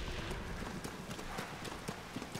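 Horse hooves clip-clop at a quick, uneven pace in Tears of the Kingdom, faint and close under a soft background wash.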